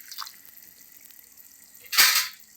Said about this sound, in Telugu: చింతపండు కూడా వేసి కొంతసేపు ఉడకైతే దగ్గరికి వచ్చేదాకా ఉడకనిద్దాము